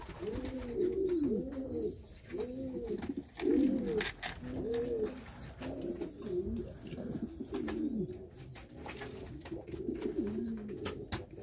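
A domestic pigeon kept among backyard birds coos in repeated soft, rolling phrases, fairly faint and close. A few brief chirps sound in the background.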